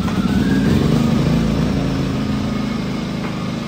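An Allen 2000-watt inverter generator runs steadily up close, a loud, continuous low engine drone with a constant mechanical hum and no talking.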